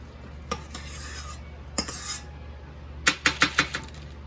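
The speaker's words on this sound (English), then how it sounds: "I'm going to drop them by teaspoons" A teaspoon scrapes and taps against a bowl as almond flour cookie dough is dropped out, giving a few sharp clicks and then a quick run of four or five metallic taps over a low hum.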